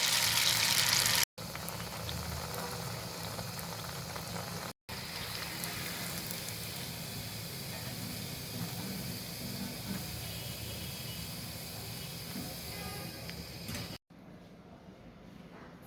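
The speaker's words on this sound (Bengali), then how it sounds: "সবগুলো পিঠা আমি একইভাবে ভেজে নিচ্ছি।" Sylheti egg and chili pitha fry in oil with a steady, dense bubbling hiss like rain, broken by a few short cuts and fading quieter at the end, no voices.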